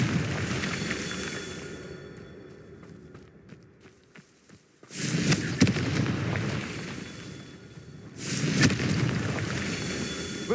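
A Confringo fire spell blast in Hogwarts Legacy, a loud broadband burst that erupts suddenly, then a second blast a few seconds later, with quieter crackling game ambience between them.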